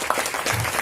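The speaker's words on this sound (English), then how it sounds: "Let's give a huge round of applause for such an amazing personality" A short burst of audience applause at an interview event, dense, steady clapping from a room full of people, moderately loud and without talk.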